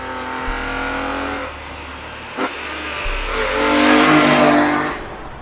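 A BMW E46 M3 CSL engine pulls hard while driving, a loud close rising roar through the gears with a brief dip at a shift and another climbing surge, no voices.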